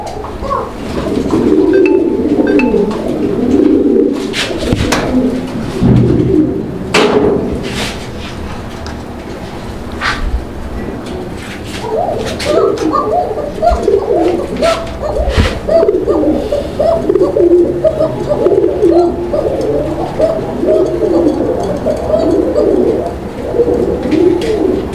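Pigeons coo steadily and continuously in a loft of pigeons kept for sale, with overlapping throaty calls near and far and occasional rustling and clatter.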